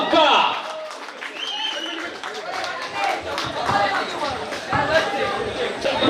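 A crowd at a Sri Ganesha Seva Samiti kabaddi event in Beeri claps amid general chatter, and an announcer's voice carries over the noise through the scattered, moderately loud applause.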